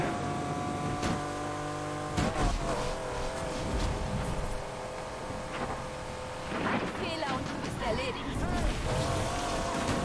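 A Lamborghini in the racing game Need for Speed Unbound roars along under nitro boost, its engine droning loud and steady with rising revs and whooshes. Someone talks over the engine noise.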